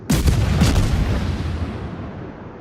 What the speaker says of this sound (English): now our Akatsuki just took some HE fire from the volume of it